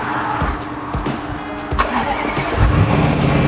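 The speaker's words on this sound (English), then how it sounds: "Nice cold start." A Mercedes-AMG SUV engine cold-starts, cranking with short bursts and then catching into a loud, rising rumble that settles into a steady high idle close by.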